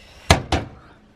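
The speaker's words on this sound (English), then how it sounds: "You can close these doors now." Two oven doors on a home stove swing shut one after the other, each landing as a solid, close thunk about a quarter second apart, with a short fading rattle and no talking.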